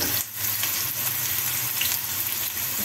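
Diced onion sizzles in a hot pan, a loud, steady frying hiss with crackling throughout and no voices.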